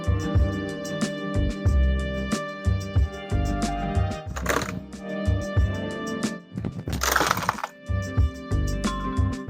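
An old timber shed frame being pushed over gives off loud wooden cracks and splintering bursts, with two longer crashing breaks amid a steady rhythmic background music track, close and forceful.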